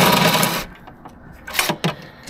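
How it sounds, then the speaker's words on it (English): Bolts on a mobility scooter being removed with a 10 mm flex swivel socket, a short burst of metallic whirring followed by a few sharp clicks and taps, close up with no talk. "So I'm removing those two bolts."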